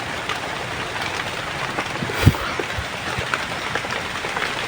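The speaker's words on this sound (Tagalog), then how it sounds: "Sobrang ulan, oh." Heavy rain falls outdoors in a steady, dense wash of noise at close range, with a single sharper thump partway through and no voices.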